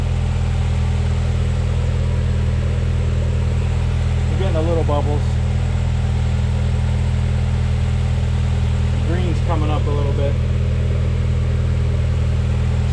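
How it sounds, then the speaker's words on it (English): A car engine idles steadily after starting, a constant low hum running through the whole stretch while someone talks nearby during a radiator refill. "Started the car."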